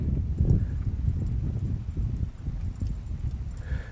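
A horse walks during a riding flatwork exercise, its hooves clip-clopping in a steady, close rhythm over a low background rumble.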